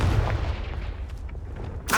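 A Confringo blasting spell fired in Hogwarts Legacy, a continuous rumbling, crackling blast of fire that rolls on for two seconds, with a sharp fresh burst at the very end.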